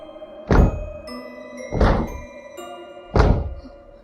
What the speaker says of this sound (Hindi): निशा दीवार पर अपना सर पटकते हुए डरावने तरीके से हंस रही थी।